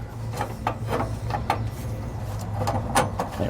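A metal room bar on a 2007 Fleetwood RV's PowerGear slide-out is slid back into place, giving a series of short scraping clacks and taps over a steady low hum, close up with no talking.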